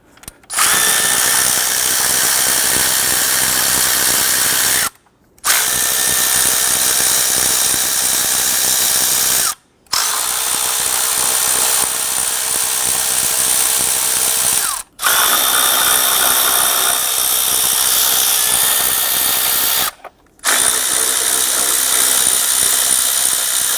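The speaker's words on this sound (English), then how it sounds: "Next step is to loosen and remove our lower intake bolts." A power tool loosens the lower intake manifold bolts on a 2011-2021 Jeep Grand Cherokee 3.6L V6, running loud and close in five long whirring bursts separated by brief pauses.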